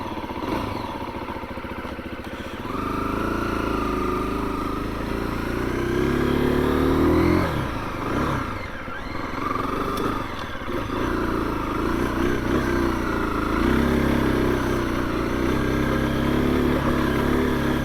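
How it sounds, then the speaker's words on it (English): A 2021 KTM 350 EXC-F dirt bike idling while cold in snowy conditions, a steady close mechanical putter with slight rises and dips in engine pitch throughout. "until this bike gets warmed up, it's at about 1750 idle"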